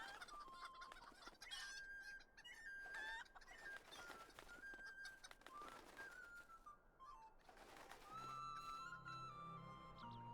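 Chickens on a video-game farm populated by NPCs cluck and squawk in a busy, continuous chorus, with sharp calls and a crow-like cry rising over the flock; no talking.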